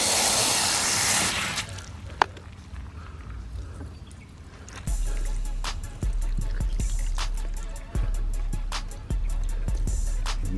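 Water from a hose pouring onto the base of garden corn plants, a soft hissing splash that turns into a louder steady gush partway through, broken by a few brief knocks and bumps.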